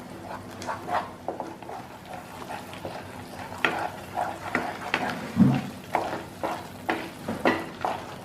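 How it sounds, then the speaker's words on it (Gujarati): A spatula scrapes and stirs thick pointed gourd gravy roasting in oil in a pan, soft irregular scrapes and faint sizzling close up, with no talking. "આ ગ્રેવીને આપણે એની અંદરથી તેલ છૂટવા લાગે ત્યાં સુધી એને આ રીતે હલાવતા હલાવતા શેકતા રહીશું"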